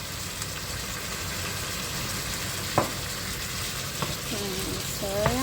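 Courgette and chicken fry in a pan with a continuous soft sizzle, broken by a few sharp clinks of a utensil stirring, with faint voice-like tones near the end.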